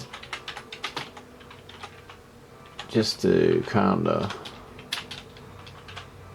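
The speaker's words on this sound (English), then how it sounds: "typing with one hand here" Rapid one-handed typing on a computer keyboard, a dense run of light clicks close by, while someone talks over it about running an internet speed test.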